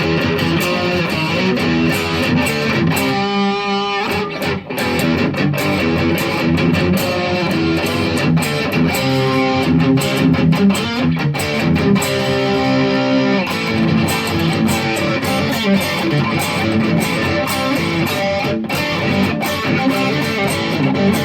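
A 2002 Squier Affinity Stratocaster, a 20th Anniversary model, plays a continuous distorted electric guitar passage with sustained chords and single notes, loud and up close for the whole stretch, with no voices.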